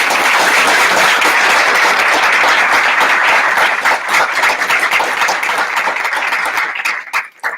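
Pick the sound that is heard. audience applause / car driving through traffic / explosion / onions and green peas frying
audience applause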